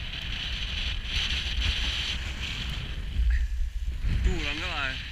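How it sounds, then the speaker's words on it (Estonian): Strong wind buffets the microphone outdoors, a continuous rumbling roar with gusts, while a person talks and a brief whistling tone warbles near the end. "Tuul on kõva."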